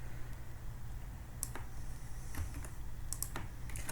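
Steady, fairly quiet typing on a computer keyboard while writing code, with soft continuous key taps and a few sharper clicks over a low background hum.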